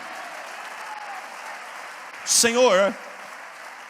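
A church congregation applauds in a steady, broad wash that runs throughout, and a voice briefly cuts in over it near the end.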